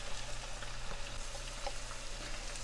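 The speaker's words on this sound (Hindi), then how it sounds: "लहसुन अदरक को भूनते हुए मुझे 5 मिनट हो गए हैं।" Garlic and ginger paste frying with boneless meat in a pan gives a steady, soft sizzle with occasional faint stirring scrapes over a low constant hum.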